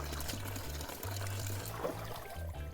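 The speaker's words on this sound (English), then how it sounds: "I'm just gonna put a strainer on top of this and run some water under here" Tap water runs through a strainer over rinsed vegetables in a home kitchen, a close, steady pouring and trickling with low rhythmic thumps.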